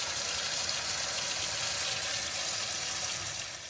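Hot water runs steadily from a house tap fed by a newly installed modern continuous-flow gas system that replaced an old Bosch unit, a constant hissing gush, close and unbroken, with no talk.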